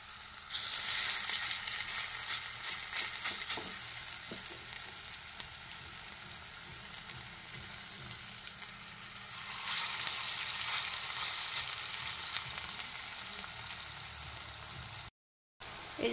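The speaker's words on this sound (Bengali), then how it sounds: "দু পিঠ ভালোভাবে ভাজা হবে, আর এইভাবে আমি সব বড়াগুলি ভেজে নেব" Pointed gourd fritters fry in a pan of oil, giving a steady, dense sizzle that runs unbroken and fairly loud, swelling slightly midway, with a short silent gap near the end.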